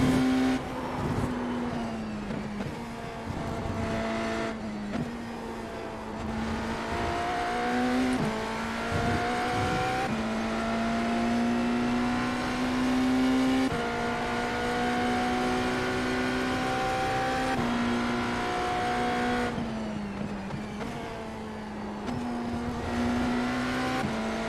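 A race car engine drones loud and steady, climbing in pitch and then dropping back with each upshift through the gears, the rising runs repeating over about twenty seconds with no talking.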